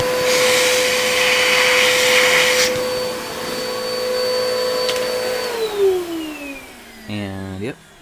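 A vacuum cleaner whines steadily as it sucks metal bits out of the engine case of a 1970 Honda CB450 motorcycle, its pitch dropping as the motor winds down, followed by a brief rattling knock.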